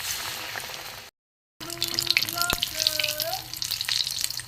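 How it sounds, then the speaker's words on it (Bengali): Ash gourd slices coated in gram flour batter fry in hot oil, a steady close sizzle broken by a short gap, with faint tonal clinks and squeaks over the frying. "এই বেসনের গোলায় ভালো করে ভালো করে এপিটোপিট করে লাগিয়ে নিয়ে বেসন আমি এই তেলে ছেড়ে দিলাম"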